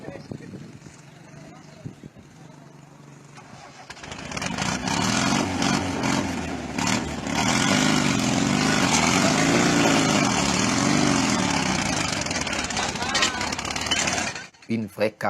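An old, battered cargo vehicle's engine runs with a steady, rough rumble that grows louder after a quiet opening and holds close and loud until it cuts off near the end.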